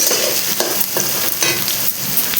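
Onions fry in a hot pan with a loud, close sizzle while a spatula stirs and scrapes in quick repeated strokes, with no talking.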